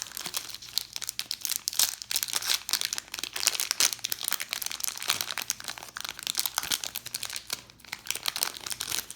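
Crinkling, crunching wrapper of a Walmart fat pack of Topps baseball cards being torn open up close, a steady run of crisp rustles and small rips with no talking.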